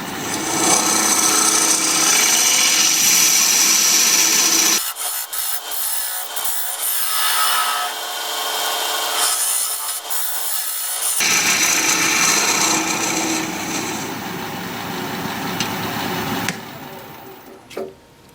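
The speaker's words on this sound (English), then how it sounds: "Now I'm going to use my dovetail tool" A dovetail tool cuts a dovetail into spinning wood on a lathe, giving a loud rough scraping hiss in two long bursts separated by a quieter stretch of the lathe running, with a brief knock at the end.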